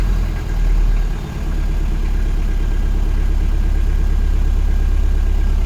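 A vehicle engine with a choke lever idles loud and steady while warming up, a continuous low rumble with no talk.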